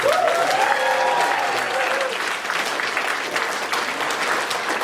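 Loud, sustained applause fills a stand-up comedy club room, with a few cheers rising over the clapping before it settles into a steady patter.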